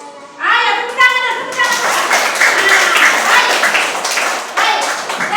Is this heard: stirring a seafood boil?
no